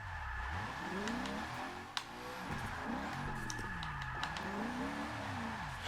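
Race car spinning out in Forza Motorsport 6 during a Formula Drift run at Road Atlanta: a continuous loud engine with sweeping revs rising and falling as the car slides, tires squealing, plus a couple of sharp clicks.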